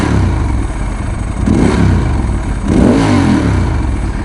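A Ducati 916 motorcycle engine idles with a loud, throaty rumble and is revved twice in quick swells, each rising and falling back to idle.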